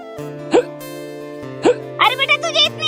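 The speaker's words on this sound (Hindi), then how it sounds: "अरे बेटा तुझे इतनी हिचकी क्यों आ रही है?" Someone hiccups twice, each a short sharp gulp about a second apart, over steady background music, followed by a brief stretch of talking.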